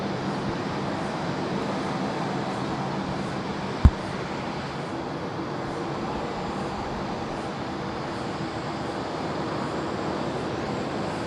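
A jet airliner roars down the runway at Sydney Airport on takeoff, a steady broadband rumble heard from a distance that holds constant throughout, with one brief sharp click partway in.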